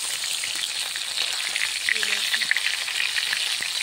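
Fish sizzling steadily in hot oil in a pan for a Bengali fish curry, a dense, even crackle close by with a few brief soft clinks, no talking.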